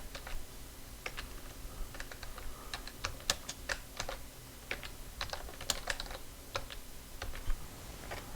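Keys clatter on a computer keyboard as text is typed, a quiet, close, irregular run of crisp taps with short pauses, heard alone without talking.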